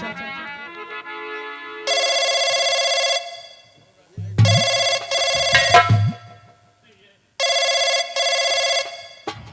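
An electronic telephone rings in repeated bursts, loud and close, separated by pauses, with voice-like sounds between the rings.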